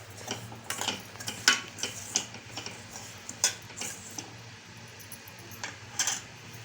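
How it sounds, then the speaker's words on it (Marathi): Semolina roasts in ghee over low heat while a spoon stirs it, giving a string of light, regular ticking scrapes against the pan on top of a faint background hum. "मंद गॅसवरच भाजून घ्यायचा रवा."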